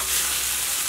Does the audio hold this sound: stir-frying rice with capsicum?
yes